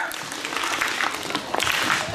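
A school morning-meeting crowd gives a quick Husky cheer, with a burst of clapping and children's voices shouting together, lively and close, rising and falling over a couple of seconds.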